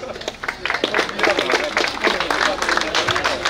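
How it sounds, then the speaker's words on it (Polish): A crowd applauds a cyclist at an outdoor road race podium ceremony, steady dense clapping throughout, with someone speaking over it. "Brawa."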